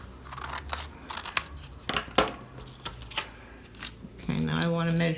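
Scissors snip through paper while making a junk journal pocket, a series of quiet, sharp cuts at irregular intervals close up, ending with a voice starting to speak.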